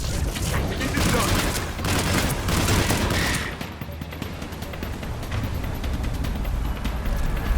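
Sustained gunfire in a Mass Effect 3 firefight, dense crackling volleys of shots in the first half giving way to lower rumbling impacts and scattered bursts, with voices calling out over the combat.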